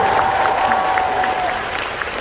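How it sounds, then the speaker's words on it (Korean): A concert hall crowd at an encore show in Seoul applauds loudly and continuously, a dense roar of clapping with a faint whistle-like tone drifting through. "음향의 아트믹스 여러분 박수 부탁니다"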